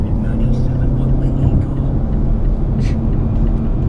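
A 2018 Mazda6 sedan's engine drones steadily as the car accelerates to pass on the road, a loud, sustained hum heard from inside the cabin with road noise beneath it.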